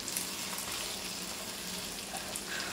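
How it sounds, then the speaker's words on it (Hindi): Okra pieces fry uncovered in a pan, giving a steady, gentle sizzle with soft crackles that continues evenly at close range, with no voices. "अभी हमारी भिंडी जो है ना फ्राई हो रही है"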